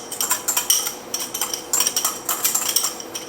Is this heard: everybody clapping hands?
no